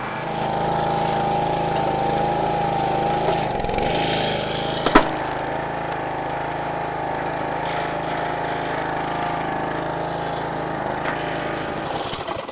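A Yard Machines log splitter's small engine, coupled to its hydraulic pump, running steadily after turning over, a loud close droning rumble with a steady pitched hum, one brief clank partway through, running alone without talk.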